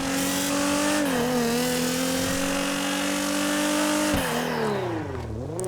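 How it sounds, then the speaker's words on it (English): A loud Elegy RH8-X (Nissan GT-R) engine in GTA 5 drones and revs steadily, the pitch rising and falling as it accelerates, with a brief drop near the end. "you can hear the way it sounds, and I think it sounds personally fantastic with the new audio"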